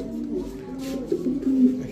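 A young male silver Afsan grizzle racing pigeon coos in low, throaty murmurs, a few close soft rolls that swell slightly toward the end, with no one talking.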